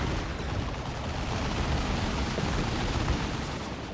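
Warp Spiders in the Warhammer 40,000: Dawn of War 2 strategy game setting off explosions with dual death spinners, a dense, continuous rumble of blasts and crackle filling a busy battle mix, with no talk.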